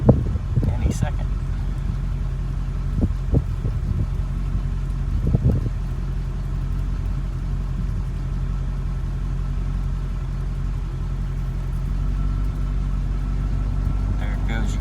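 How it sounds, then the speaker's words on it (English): A 1988 Chevrolet Corvette engine idles steadily with a low rumble, then the idle rises slightly as the cooling fan engages and adds a hum. A few brief clicks and knocks sound early on. "You can hear the idle kick up a little bit to take the load."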